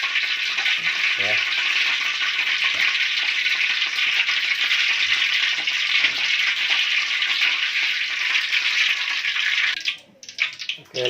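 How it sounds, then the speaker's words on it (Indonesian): Gabin tape coated in egg fries in hot oil over a low flame, a loud, steady close sizzle lasting about ten seconds before cutting away sharply, with light stirring rattles beneath. "lalu kita goreng ya"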